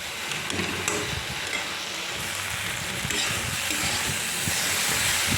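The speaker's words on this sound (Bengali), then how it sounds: "হলুদ দিয়ে কিন্তু আমি ভালো করে ভেজে নেবো" Okra frying with turmeric in a pan, a steady close sizzle and hiss with dense crackling spits that carries on without a break and with no voices.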